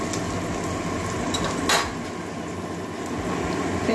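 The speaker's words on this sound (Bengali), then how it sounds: "বাদামি কালার পর্যন্ত ভেজে নেবো পেঁয়াজটা" Onions fry in a pan until brown, a continuous dense sizzle with a sharp metallic clink of a utensil against the pan partway through, steady and close.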